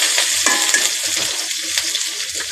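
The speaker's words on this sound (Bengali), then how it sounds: "পেঁয়াজ রসুন মরিচটারে খুব সুন্দরভাবে টালতে হইবে।" Onion, garlic and chili fry in hot mustard oil while being turned in the pan for a bottle-gourd-leaf bharta, giving a loud, continuous close sizzle with scraping stirs throughout.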